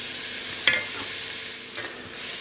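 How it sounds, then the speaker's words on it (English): Sofrito vegetables cook in a pan, giving a soft continuous frying hiss with a sharp utensil scrape near the start and a fainter stir later, close by and without voices. "I'm going to keep stirring it for a while, and these vegetables will slowly cook down a bit"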